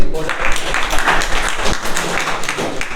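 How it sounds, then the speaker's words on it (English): A meeting audience at a Toastmasters session gives a round of applause, many hands clapping in a steady, close wash, with a voice or two faintly mixed in. "A big round of applause."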